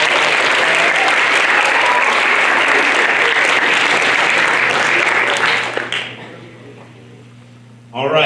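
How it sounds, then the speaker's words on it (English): Dense, loud applause from an audience at a Pi Day digit-recitation contest fills most of the clip, fading out near the end before a brief burst of sound returns. "Let's clap for all of them again."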